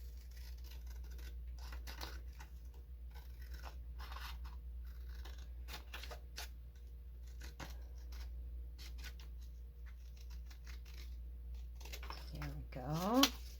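Scissors trimming paper for a handmade magnetic journal bookmark give faint, repeated crisp snips and scratchy paper rustles over a steady low hum, with a voice briefly near the end.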